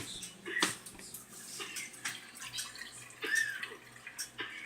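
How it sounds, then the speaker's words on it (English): Water drains out of a container, giving splashy trickles and drips with a few louder gushes, close by, with no talk. "Drain out the water."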